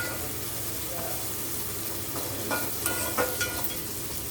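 Fish frying in a pan for a fish curry crackles with a steady close sizzle, joined by a few light clinks and stirring sounds toward the end.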